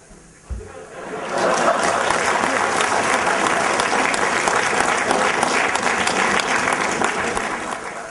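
A large audience at a talk at the Indian Institute of Management breaks into loud, sustained applause that swells quickly and holds steady for several seconds before easing slightly.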